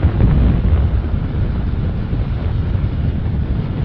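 Steady wind rushes and buffets the microphone while riding a motorbike at speed along a quiet village road past green fields, a loud continuous roar with no voices.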